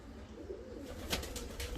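Lark pigeons, an imported pair of large postal-type birds, coo in low rounded murmurs close by, with a brief wing flutter or rustle near the end.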